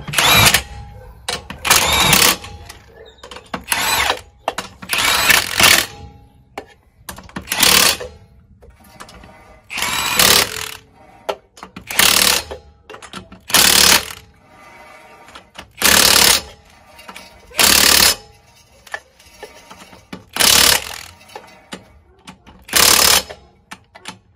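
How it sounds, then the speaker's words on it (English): An impact wrench fires in repeated short bursts, about a dozen loud, close rattling hammers separated by brief pauses, as bolts are tightened on the front end of a Dodge Ram 1500. "Grab the impact and tighten them up."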